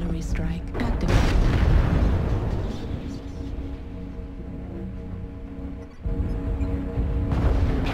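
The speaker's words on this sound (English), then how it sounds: "artillery strike activated" Artillery strike landing in MechWarrior Online: a heavy burst of booming, rumbling explosions up front that settles into a low roar, then another thump near the end, with a voice talking over the game sound.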